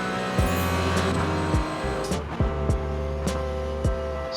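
Race car at wide open throttle around Road Atlanta, a loud onboard engine drone with sharp shift blips and rising, falling revs repeating every second or so, strong and close throughout.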